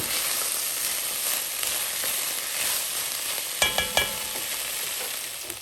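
Peppers, onions and garlic frying in oil for chili, a steady close sizzle throughout with a few sharp clicks of utensils against the pan near the end; no talking.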